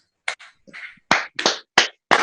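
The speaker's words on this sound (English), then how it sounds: "give ourselves a big round of applause" Scattered individual claps and hand slaps from participants unmuted in an online meeting, a handful of separate sharp bursts spaced irregularly rather than blended applause.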